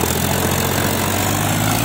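Mahindra 265 DI tractor engine running, a loud steady low drone with a constant throbbing hum and no voices.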